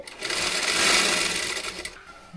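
A sewing machine stitches around the edges of a blouse in a steady, fast, continuous whir, close and loud, running for about two seconds before stopping.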